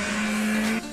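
A car brakes into a drift with a loud, steady, high tire squeal for most of a second, then cuts off sharply near the end.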